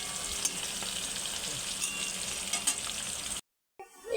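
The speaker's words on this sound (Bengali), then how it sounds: "কড়ার মধ্যে তেজপাতা দিয়ে দিচ্ছি, আর দিয়ে দিচ্ছি কাঁচা লঙ্কা, পেঁয়াজ। ভালো করে লাল লাল করে ভেজে নেব।" Bay leaf, green chilli and onion fry in oil in a wok with a steady crackling sizzle and a few stirring knocks, then cut off abruptly into brief silence before sound returns.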